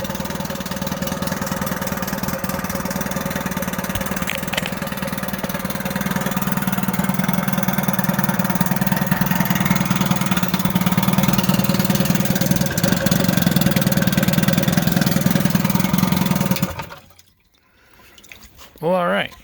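A 1956 Evinrude Fastwin Electric 15hp outboard motor idles in a test tank, a steady close mid-pitched drone with watery bubbling that runs evenly, then cuts out near the end, leaving a brief quiet and a voice.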